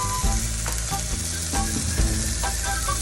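Chicken pieces sizzle loudly in a hot pan as they fry and brown, a dense, constant hiss with occasional soft stirring knocks.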